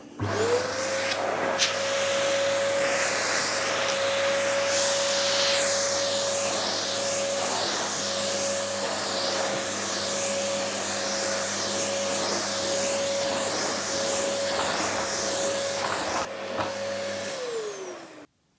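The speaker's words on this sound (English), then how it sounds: "the suction is so good that I'm just going to reduce that down slightly, the suction, so it glides easier over the carpet" A Vacmaster D8 vacuum cleaner runs on deep pile carpet with its suction turned down slightly, giving a loud, steady droning roar with a constant whine over it for about seventeen seconds before powering down.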